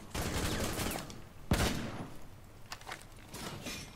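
A shotgun fires in a video game, giving one sharp, loud blast followed by a few fainter shots over busy background game noise.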